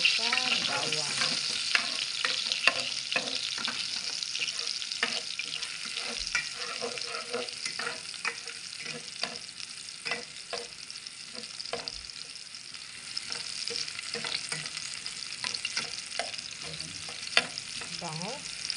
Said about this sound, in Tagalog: ating igisa po sa bawang